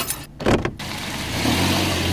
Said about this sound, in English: The next thing Bush did was get in her car in an effort to chase down the teens.